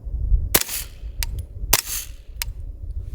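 Suppressed CMMG Banshee 9mm carbine firing subsonic Freedom Munitions Hush rounds into dirt outdoors: two sharp, muffled shots about a second apart, each followed by a short crack or echo, over low wind rumble.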